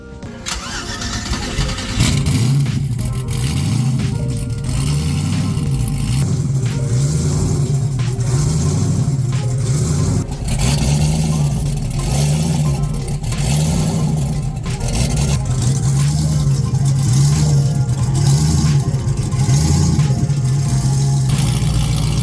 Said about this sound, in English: let's hear what this new exhaust sounds like